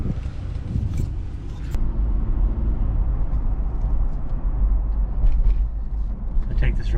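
A 4x4 truck climbs a hill on a road with a steady low engine rumble and road noise inside the cab, as someone talks over it.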